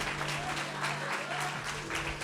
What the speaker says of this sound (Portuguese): Aplauda o nome dele, porque por amor e graça ele está aqui.